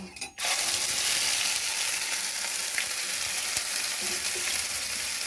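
Green peas tip into hot oil seasoned with asafoetida, a quick clatter at the start bursting into a loud, dense, steady sizzle that carries on close and unbroken.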